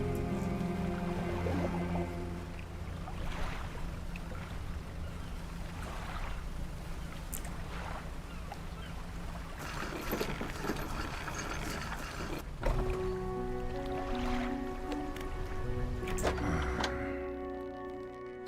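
A fishing boat engine in the video game Dredge runs on in a steady low drone beneath layered ambient game music and water sounds, with no talk.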